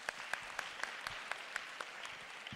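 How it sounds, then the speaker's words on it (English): Audience at a police child protection month closing event in the Eastern Cape giving a round of applause, faint and fairly distant, with a few sharper individual claps standing out. "May you please give yourself a round of applause,"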